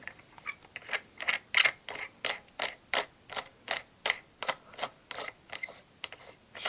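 A plastic cap being screwed down onto a bed bug steamer, giving a steady series of about fourteen evenly spaced ratcheting clicks, close and fairly quiet, with no voices.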